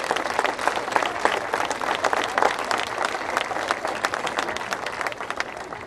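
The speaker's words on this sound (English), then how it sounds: "Please help me thank them with a round of applause as well." Crowd applause at an outdoor beach sand sculpting awards ceremony, steady dense clapping from a sizable audience, sustained and even throughout without a break.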